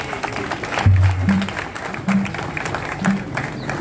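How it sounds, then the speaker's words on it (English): Applause at a political gathering congratulating a newly appointed secretary general, Batuke Mende; moderate clapping from a crowd in an echoey hall, with low humming and tonal tones intermittently cutting through. "A round of applause for him."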